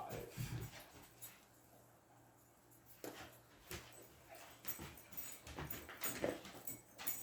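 Puppies whimper and yip in short, scattered bursts at close range, with a few soft sharper cries across the stretch and light household noise between them.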